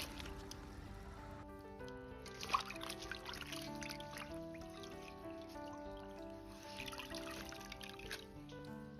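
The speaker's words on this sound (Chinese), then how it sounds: "再倒入撕好的平菇清洗干净" Torn oyster mushrooms are rinsed in a bowl of water, giving soft, close trickling and gentle sloshing with small squishy splashes throughout, no talking.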